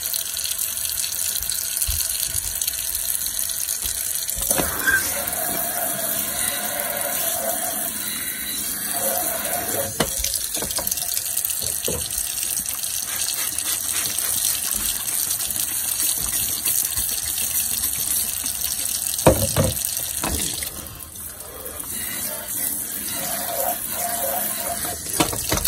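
Kitchen tap water runs steadily into a sink while a pan is rinsed out after draining ground beef, with splashing changes and a brief clatter near the end and no speech.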